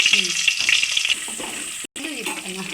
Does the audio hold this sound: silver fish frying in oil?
yes